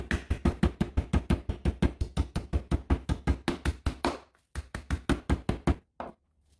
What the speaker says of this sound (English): start pounding the pork chop using a meat mallet until the thickness is even